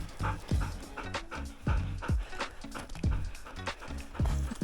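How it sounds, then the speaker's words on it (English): Huskies out on a snowy walk near a tiny homestead, their quick paws crunching and patting rhythmically through the snow, fairly close with faint breathing and rustling and no clear talking. "Huskies, if you don't know, are generally high energy brats."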